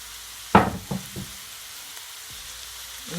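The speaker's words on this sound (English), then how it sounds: "now I'm gonna add my mince meat." Ground beef mince drops into a pan with tomato, giving a sudden loud sizzle followed by a few scraping and knocking stirs, then a quieter background hiss of frying.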